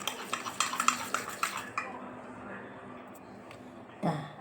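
Spoon clinking against a bowl while stirring a homemade face pack, a quick series of light rhythmic taps that fade into soft scraping, then one louder knock near the end.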